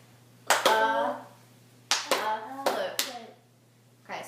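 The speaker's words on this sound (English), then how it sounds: "So let's clap it." A teacher and class in a lesson clapping out the syllables of a spoken word, short bursts of hand claps in small groups with pauses between, close in a room, with brief spoken syllables mixed in.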